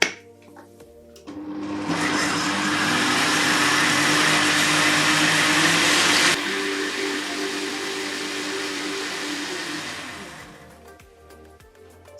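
An electric mixer whirs loudly through wheat-free ugali cake batter as oil is added, starting up, running steadily for about nine seconds with a slight drop in pitch partway through, then winding down.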